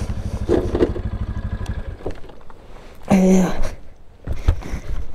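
A motorcycle engine idles with a steady low throb and some clatter while the bike is being parked, close by, with a brief louder burst partway through and faint voices in the background.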